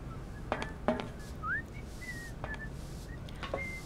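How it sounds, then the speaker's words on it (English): A man in the Syberia video game whistles Dixie, heard as a few thin, gliding whistled notes scattered over soft background ambience with occasional light clicks, faint and somewhat distant. "I don't know where he's at, but he's whistling somewhere."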